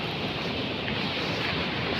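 A small waterfall on a river near Kondeshwar Temple in Badlapur gives a steady, even broadband rush that fills the whole stretch, with no voices over it.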